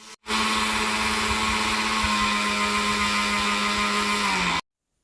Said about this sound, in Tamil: ஒரு மிக்ஸி ஜாரில் போட்டு நம்ம அரைச்சிக்க போகிறோம்.